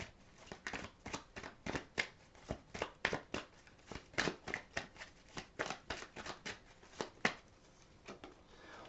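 Tarot cards being shuffled by hand at close range, a quiet run of quick riffling and slapping bursts in an irregular rhythm, with no talk.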